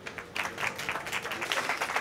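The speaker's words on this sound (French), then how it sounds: "Eddy Modio, qu'on accueille sous vos applaudissements." A studio audience claps in welcome for a comedian arriving on a French debate show, a moderate burst of applause that starts abruptly and carries on steadily without a voice over it.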